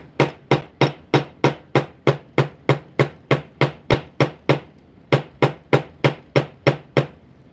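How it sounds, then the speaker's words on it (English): A hard-headed hammer strikes thin 20-gauge craft wire in a steady run of about twenty sharp, evenly spaced blows, close and clear, with a short pause near the middle. "And you can hammer it out."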